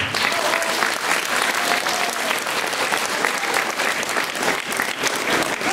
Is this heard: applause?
yes